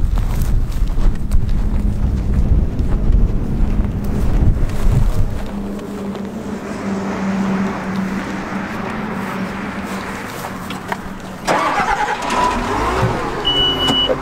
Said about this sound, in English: Let's hop on my loader here.